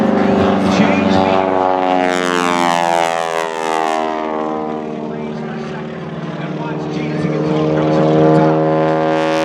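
A propeller aerobatic aircraft with shortened wings and a smoke system flies at the NAS Jax airshow, its loud engine drone sweeping up and down in pitch as it passes close overhead, with speech underneath.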